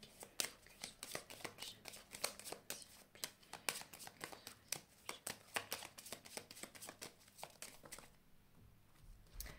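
Oracle cards being shuffled in quick repeated riffles, a rapid train of sharp papery slaps close by, fairly soft, easing off near the end with no voices.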